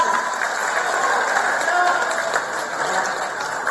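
A crowd applauds and cheers at a political rally in Indonesia, a steady, dense patter of clapping with mixed voices running throughout at fairly close range.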